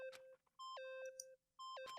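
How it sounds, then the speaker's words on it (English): Electronic beeping from a device in the Danganronpa video game: a melodic, ringtone-like sequence of stepped tones repeating in two bursts, loud and alone. "Stop that goddamn beeping and say something!"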